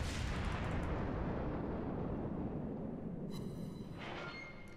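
Naval guns firing armor-piercing and high-explosive shells in the World of Warships game make a loud, sustained booming roar with a deep rumble that slowly fades, and a fresh blast near the end.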